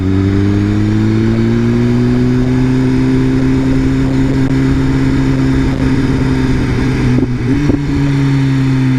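A 2015 BMW S1000RR engine drones loudly and steadily up close, its tone rising and falling slightly, with a brief stutter and crackle near the end.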